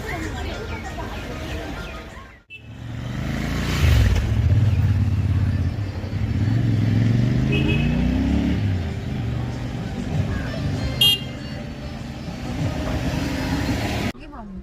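Taxi on a Sikkim road, a continuous engine drone and road rumble inside the vehicle, with a door thud early on, gear changes and pitch swells, and voices talking over it.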